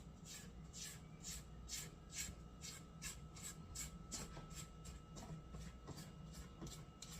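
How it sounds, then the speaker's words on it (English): A spatula scrapes around the sides of a mixing bowl of pumpkin roll batter in a quick, regular back-and-forth rhythm. It sounds close and soft over a low hum, with no talking. "I'm going to scrape down the sides."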